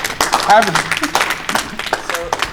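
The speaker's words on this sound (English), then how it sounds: "Can we give that a hand clap?" Audience hand clapping bursts out under a speaker's voice at a talk, with scattered claps and whoops mixed into ongoing speech, moderately loud and short-lived.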